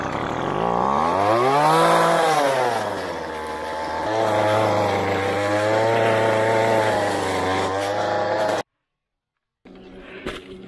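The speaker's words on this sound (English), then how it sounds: "doing some lawn trimming in the yard" A lawn trimmer runs in a backyard with a steady, loud motor whine that swells and dips in pitch as the throttle changes, then cuts off abruptly near the end, followed by faint outdoor sounds.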